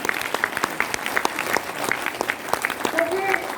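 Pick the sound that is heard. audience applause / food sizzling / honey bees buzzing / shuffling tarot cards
audience applause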